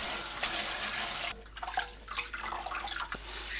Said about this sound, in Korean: 불린 미역을 조물조물 헹굽니다.